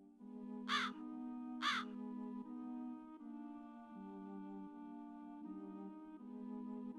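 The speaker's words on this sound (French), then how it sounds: "des corbeaux se demandent ce que quelqu'un comme toi vient faire ici" Two harsh crow caws ring out about a second apart, loud and near, over a steady, sustained droning musical background.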